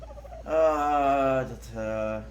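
A dodo in the video game ARK Survival Evolved gives a gobbling, fowl-like call in two close, nasal bursts, the first longer than the second, sounding near and clear.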